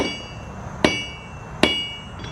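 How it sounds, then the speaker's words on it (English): A blacksmith's hammer strikes hot steel on an anvil twice in a slow rhythm, each blow a sharp ringing clang that decays over a humming background. "when you're hammering it"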